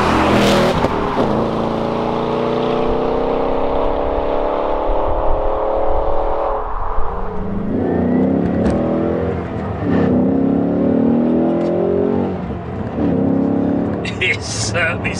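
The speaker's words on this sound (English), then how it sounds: "Sounds gruff and menacing, this car." A 2018 Ford Mustang GT drives on a road, its loud, gruff engine note climbing through the revs, dropping back at a shift, then pulling again with repeated surges and a close, throaty growl.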